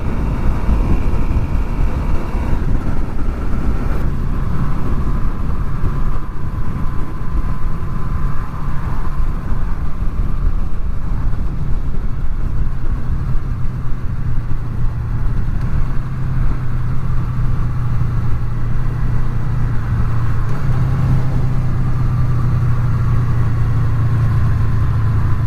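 A Honda VFR800 motorcycle engine revs hard into its VTEC range on a country road, a loud continuous drone that climbs in pitch near the end, with wind rush throughout.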